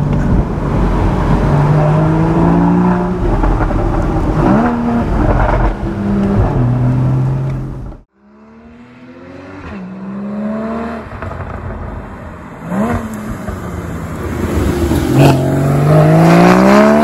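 A Porsche Boxster 3.4 GTS 981 engine revs hard through the gears, loud rising pitch sweeps with gear changes, a brief dip partway, then pulling strongly again while driving over an Alpine road.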